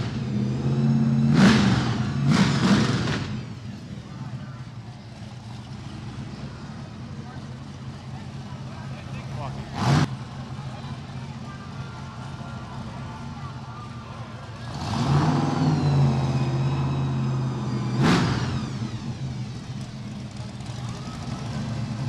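A Corvette at a car show revs several times, short sharp bursts of engine noise spaced across the stretch, heard under steady low idle and outdoor background with people talking nearby.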